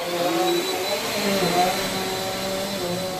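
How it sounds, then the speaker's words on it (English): A vacuum cleaner runs steadily while carpet in a room is cleaned, a loud continuous motor whine with a constant pitch that holds for the whole stretch, close by, with no talking over it. "I'm gonna finish vacuuming."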